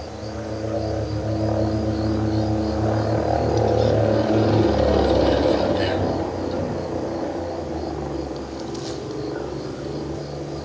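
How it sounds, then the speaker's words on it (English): A helicopter in the Ghost Recon Breakpoint video game flies past as a loud, steady rotor and engine drone that swells and then eases off slightly, with brief game sounds near the end. "Chopper's out of range."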